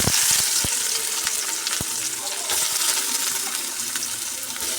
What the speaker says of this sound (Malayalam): നമുക്കിനി ഇതിലേക്ക് നേരത്തെ കനം കുറച്ച് അരിഞ്ഞ് വെച്ച സവാള ഇട്ട് കൊടുക്കാം